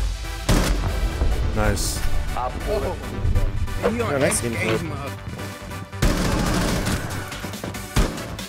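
Gunfire in a multiplayer video game crackles in repeated bursts and sharp shots, loud and close, while players talk excitedly over the action throughout.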